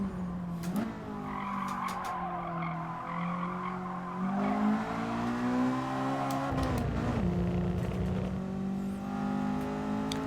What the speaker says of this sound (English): I do quite like how audible the VTEC is